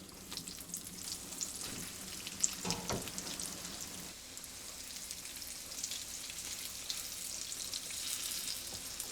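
A calzone-style folded pizza fries in plenty of oil in a frying pan over medium-low heat, a soft, steady sizzle with faint crackles and a brief stirring scrape.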